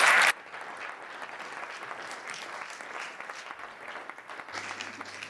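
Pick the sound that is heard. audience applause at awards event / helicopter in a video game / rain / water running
audience applause at awards event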